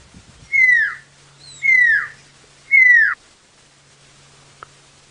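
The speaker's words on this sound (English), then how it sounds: "So that's the pearl-spotted owl." A pearl-spotted owl gives three loud, clear descending whistles at an even pace, heard alone on an evening safari drive with a faint low hum beneath.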